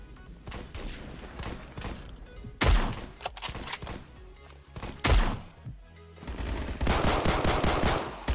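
Rapid automatic gunfire from the Roblox shooter Phantom Forces, loud bursts and sustained rattling volleys with a few heavier thumps, continuing in uneven clusters with no talking.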